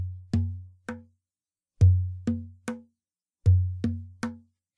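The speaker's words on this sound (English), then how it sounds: "Now put all these sounds together, it sounds like this." Small cone drum played with one hand in a basic beat: a deep open tone followed by sharper knuckle and finger slaps in repeating groups of three, close and alone.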